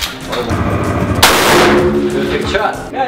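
Gunshots at an outdoor shooting range at a Cold War park in Budapest, one loud sharp report breaking over steady background noise with faint voices nearby.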